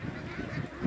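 Ducks at a duck market give short honking quacks in a brief, moderately close burst over a busy background.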